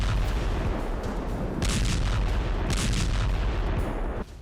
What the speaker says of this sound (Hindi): शहर के हर कोने में आईडीएफ आसमान से बम बरसा रही है।